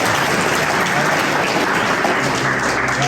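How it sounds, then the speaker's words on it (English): A crowd at a leadership talk bursts into loud, continuous applause, dense clapping filling the room with a faint murmur of voices beneath it. "Y'all can clap that up."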